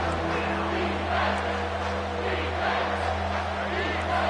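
A stadium crowd roars in the college football video game, Ohio State against Michigan, as a constant loud wall of cheering with a steady low drone beneath it.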